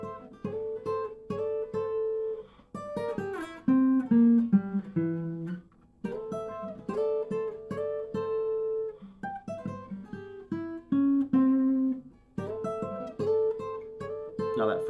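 Acoustic guitar plays a riff, picked single notes and chords in a steady repeating pattern, close and clear with no talking.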